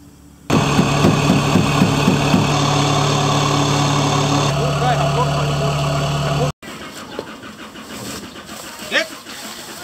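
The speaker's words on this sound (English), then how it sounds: "I've never seen a machine harvest rice in Thailand before" A rice harvester machine's engine running steadily at a Thai rice harvest, a loud close mid-pitched drone with a rhythmic chug that shifts in tone partway, then cuts off abruptly to quieter ambient noise.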